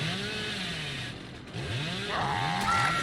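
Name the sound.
Hillbilly's chainsaw revving in video game Dead by Daylight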